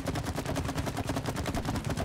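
Rapid, rhythmic gunfire from a weapon in the video game It Takes Two, a dense stream of sharp repeated shots with no talking.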